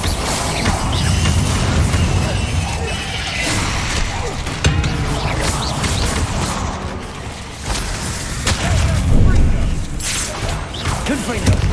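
Spell explosions from Confringo and Bombarda in Hogwarts Legacy, repeated loud booms and crashing bursts with whooshes, dense and close, mixed with game effects and a shouting voice throughout.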